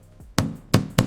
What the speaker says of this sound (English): Knocking on the sill, it's crumbling.